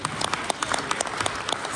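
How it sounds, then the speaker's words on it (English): Audience applause at a leadership training seminar, with scattered individual claps standing out over a steady clapping wash, fairly close and moderately loud, no talking over it. "Can we give Portier a round of applause?"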